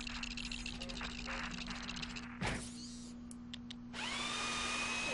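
A mechanical drill whirs loudly in the Ratchet and Clank video game, with a steady tool drone, rattling bursts and a sharp impact midway, then a sustained high whine at the end.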